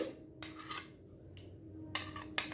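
Chopped onion, coriander and chili go one by one into a bowl of boiled chickpeas and peas, making faint, soft clinks and scrapes of utensil on bowl in a few separate bursts.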